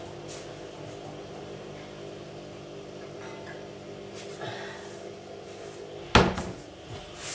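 Quiet room tone with a few faint clicks and knocks, then a sharp wooden clunk of a cupboard door followed by a brief rattle.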